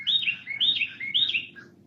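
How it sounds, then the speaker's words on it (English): A bird chirps outdoors in rural Arkansas, a few quick bright tweets repeated in short bursts over about two seconds, close and clear against a quiet low background hum. "Wait, bird's trying to talk."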